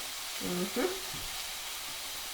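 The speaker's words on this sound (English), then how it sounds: "I think I'm going to add the rest of these veggies now" Peas, peppers, celery and broccoli tipped into a sizzling stir fry, giving a faint, soft frying hiss with a brief burst of sputtering as the vegetables land, then settling back to a low, steady sizzle.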